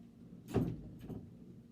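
A dog pushes against a door, giving a soft thud and rattle followed by a fainter second bump, close by and alone.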